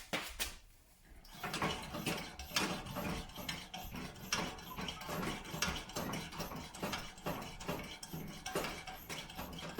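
The fuel tank of a Coleman Easi-Lite 431 lantern is pumped to build pressure, giving a fast, regular series of close metallic squeaks and clicks, one per stroke, that continue steadily with no talking.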